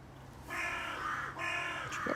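A crow caws out loud and close in two long harsh calls, with a shorter call at the end, over quiet outdoor background and with nobody talking.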